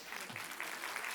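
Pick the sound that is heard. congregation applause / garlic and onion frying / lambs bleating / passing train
congregation applause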